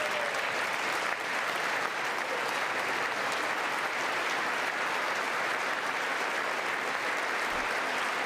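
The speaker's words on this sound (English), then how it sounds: "we see some Democrats clapping here but not standing" Audience applause in a large chamber during a State of the Union address, an even, sustained wash of clapping that holds steady from start to finish with no voices over it.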